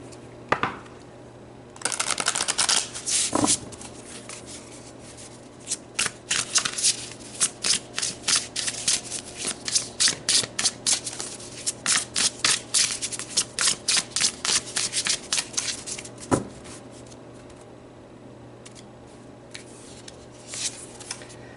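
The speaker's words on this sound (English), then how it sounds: "Let's pull you some more cards." Tarot cards shuffled by hand for many seconds in a quiet room, a dense run of crisp riffling and flicking bursts with brief pauses, close and clear with no talking over it.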